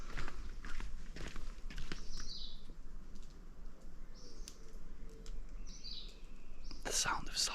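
Flip-flop footsteps slap steadily along an off-the-beaten-path jungle trail near Mayan ruins, close and fairly soft, with distant birdsong around them and a brief louder burst near the end.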